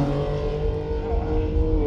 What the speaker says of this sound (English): that was a car, jeez